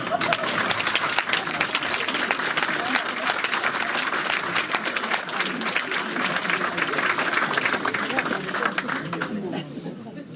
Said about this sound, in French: nous pouvons les applaudir